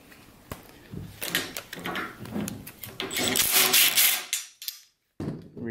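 A replacement trolley is slid onto the chain-drive rail of a garage door opener, producing close, uneven metallic scrapes, clicks and sliding rattles with short pauses between them.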